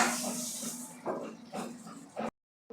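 Water poured from a ladle into hot tempering oil with asafoetida and turmeric, a sharp steamy hiss that pulses in several surges and then cuts off abruptly.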